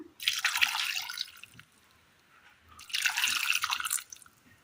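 Two separate pours of water splashing into a pot of sliced banana stem, each lasting about a second and a half, with a quiet pause between them.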